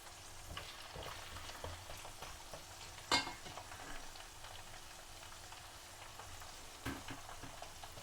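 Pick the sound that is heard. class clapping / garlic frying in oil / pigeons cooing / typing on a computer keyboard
garlic frying in oil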